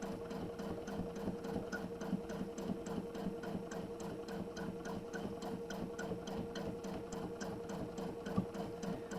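A sewing machine stitches steadily and continuously, its rapid rhythmic needle ticking and motor hum close and even throughout, with no speech over it.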